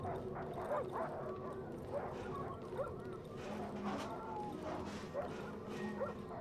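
Dogs barking and yipping behind crates in the survival horror game Darkwood, repeated barks and whimpers over a dense, steady ambient game soundscape, with a voice talking over parts of it.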